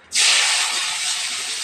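Tomatoes hit hot oil tempered with a dried red chilli, setting off a sudden loud, close hiss of sizzling that jumps in at once and holds steady, easing only slightly.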